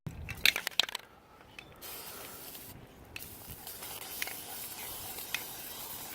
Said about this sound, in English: Make sure it sprays good.